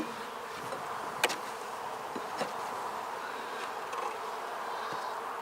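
Honeybees buzz in a dense, continuous swarm close by during a beehive inspection, with a few louder passes as single bees fly near. No one speaks.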